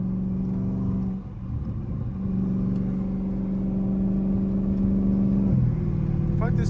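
A Dodge Scat Pack car engine drones steadily up close, its pitch shifting as the driver downshifts and the revs change, with a voice briefly audible inside the cabin.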